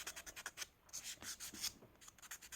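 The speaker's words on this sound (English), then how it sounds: "I'm just going to go ahead and use the buffing side to remove the shine" A nail buffer rubs across a gel-polished fingernail to take off its shine, a rapid run of soft, close scratchy strokes with brief pauses in between.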